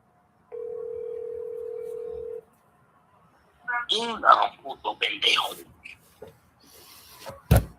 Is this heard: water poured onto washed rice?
no